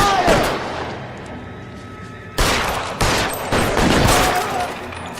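Video game gunfire in L.A. Noire, a loud burst of shots at the start, then a break, then heavy renewed firing with sharp repeated cracks over the last few seconds.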